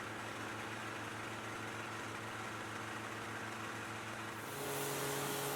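A Kubota B2261 compact tractor engine idles with a steady mechanical hum during a service check, and the tone shifts slightly near the end.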